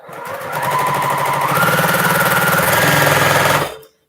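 Fast, steady mechanical hum of a home sewing machine stitching along a seam, loud and continuous for about three seconds before stopping abruptly.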